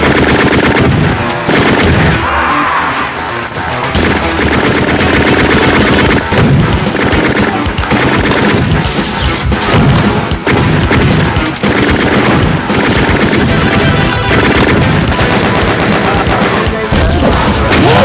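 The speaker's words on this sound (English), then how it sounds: "I love how they turned his M16 sound to the same gun sound from Doom." Loud, dense bursts of rapid gunfire using the Doom video game gun sound effect for an M16, crackling shots and crashes piling up almost without pause for the whole stretch.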